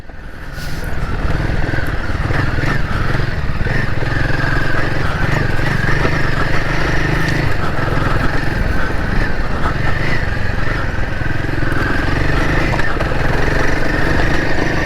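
A Royal Enfield Himalayan 450 motorcycle rides a UK dirt trail, its engine droning loud and steady throughout with constant mid-range rumble and some wind noise.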